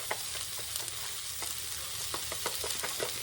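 Ranch seasoning stirred into mayonnaise and sour cream in a bowl, a steady wet scraping with soft irregular clicks of the utensil against the side, close up with no talk.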